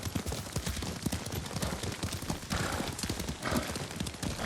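Hooves clop in quick uneven rhythm as a horse is ridden in Ghost of Tsushima, sharp repeated strikes close by over a busy ambient bed, with no talk.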